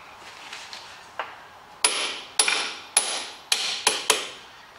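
Hammer blows on a bolt at the front tie rod of a Renault Master van, about seven sharp metallic strikes at an uneven pace, a few faint taps first, then louder ringing hits up close.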